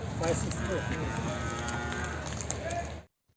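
A five-months-pregnant buffalo at the Erragadda Sunday buffalo market lets out a long, deep moo that carries strongly before cutting off abruptly, with faint farmyard background behind it.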